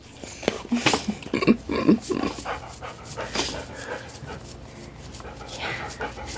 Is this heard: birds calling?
no